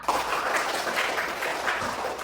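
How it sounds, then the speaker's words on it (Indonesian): A classroom of students breaks into brief applause, a dense, steady patter of many hands clapping close by for a couple of seconds. "Oke, tepuk tangan untuk kita semua."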